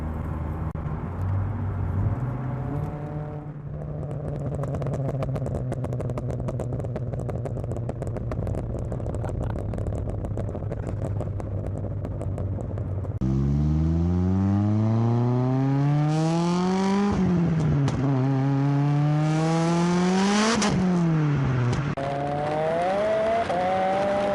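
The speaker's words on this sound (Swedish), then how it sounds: "ett otroligt ihärdigt poppande puttrande vid motorbroms" A Saab 9-5 Aero turbo engine drones steadily, then revs up and down through the gears with rising and falling pitch, crackling and popping persistently under engine braking as it slows.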